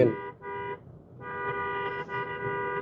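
A 2006 Toyota Premio's newly repaired horn honks four times: two short blasts, a pause, then two longer sustained honks. The tone is loud and close.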